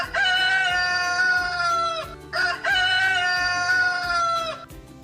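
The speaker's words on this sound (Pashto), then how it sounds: "دې چرګ ته وګورئ، غږ یې واورئ." A chicken and rooster crowing, two loud drawn-out harmonic crows close by with clucking between them, no talk.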